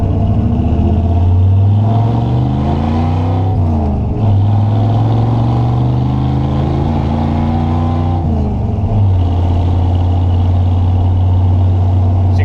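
A truck with a column-shift three-speed manual pulls hard away from a stop sign, its loud engine rising in pitch through two gear changes, each marked by a brief dip before it climbs again.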